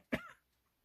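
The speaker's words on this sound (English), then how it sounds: "Excuse me, I'm going to cough too." A single sharp dry cough from a person in an indoor room, close and brief, followed by quiet.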